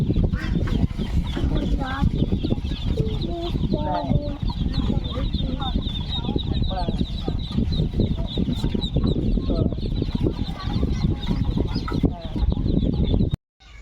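A dense, continuous chorus of high peeping from about fifty native ducklings, loud and close, with people talking and handling noises underneath.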